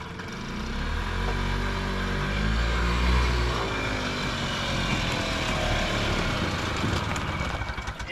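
A 1980s Harley Davidson two-stroke golf cart engine running nearby with a continuous buzzing, rattly drone and a slight rise and fall in pitch, loud and steady for the whole stretch.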